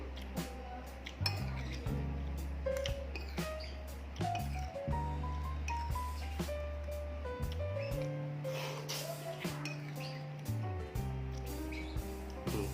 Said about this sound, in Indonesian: Aduk jadi satu ya.